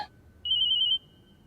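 A short electronic ringtone tone sounds once for about half a second, clear and fairly close over a quiet background.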